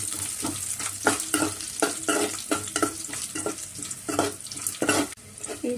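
Onion, dried red chillies and curry leaves frying in oil for a bottle gourd curry, stirred in quick rhythmic scraping strokes over a constant close sizzle, with no one speaking.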